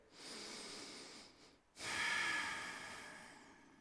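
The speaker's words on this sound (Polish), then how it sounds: "spokojny oddech" Two slow, close breaths: a soft, quiet exhale followed by a brief pause, then a longer, louder airy breath that gradually fades.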